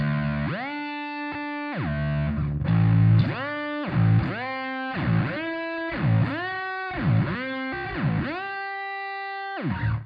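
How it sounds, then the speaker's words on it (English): A bass guitar through a fuzz pedal plays heavily distorted, fuzzy sustained notes that swoop down and back up in pitch repeatedly, loud and close, with no voices. "I like using that a big fuzz sound"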